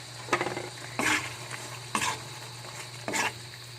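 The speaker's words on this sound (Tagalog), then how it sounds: "So, haluin natin ulit" Spoon stirring Bicol Express as it sizzles in a pan: a steady low frying hiss broken by four scraping stirs about a second apart, close and clear.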